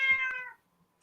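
A house cat gives a single clear, fairly close meow that tapers off and is followed by near silence.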